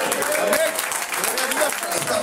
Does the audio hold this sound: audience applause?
yes